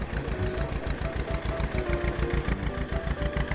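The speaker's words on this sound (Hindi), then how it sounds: "तब वो ट्रैक्टर रैं रैं करके स्टार्ट हुआ" A small tractor's diesel engine runs with a rapid, even chugging pulse, close and steady, with a faint whine on top and no speech.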